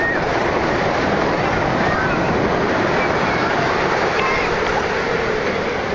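Ocean waves wash onto the shore in a steady, loud, broadband roar mixed with wind buffeting the microphone.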